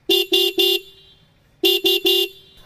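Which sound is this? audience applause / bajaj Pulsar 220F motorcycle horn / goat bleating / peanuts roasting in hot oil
bajaj Pulsar 220F motorcycle horn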